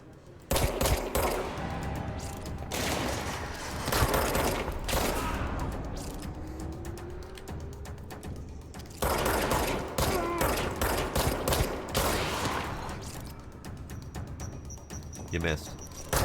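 Rapid bursts of gunfire from the action video game Control crackle in sustained volleys across the scene, and a voice talks over the shooting.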